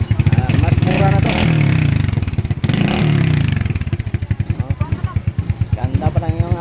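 Motorcycle for sale, engine running loud and close with a rough rhythmic idle and a surge of revving, ending in steady pulsing firing beats.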